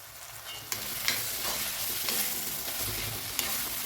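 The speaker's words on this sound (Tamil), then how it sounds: "தக்காளி நல்லா வதங்கிடும்" Tomatoes sauté in a hot pan for a Kerala-style chicken roast, a steady sizzle broken by the occasional scrape and stir of a spoon, close and with no talk.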